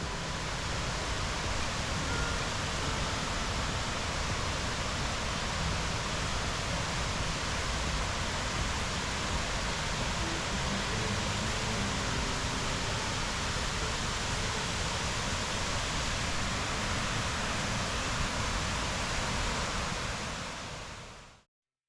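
A constant, heavy roar of falling water at Punnayar waterfall fills the scene without a break, loud and unchanging before cutting off abruptly.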